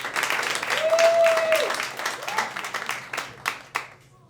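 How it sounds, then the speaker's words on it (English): A comedy club audience at the Laughing Skull Lounge claps and cheers as a comedian walks to the stage, a dense round of applause with whoops that thins out over a few seconds. "clap going all the way to the stage for Nick Tiggis"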